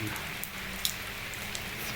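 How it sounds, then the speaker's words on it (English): Heavy rain, about four inches falling within a few hours, makes a steady, faint hiss with a few soft drips against low background rumble. "this is what 4 inches of rain looks like"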